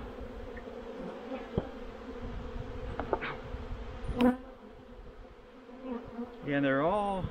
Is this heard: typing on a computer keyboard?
no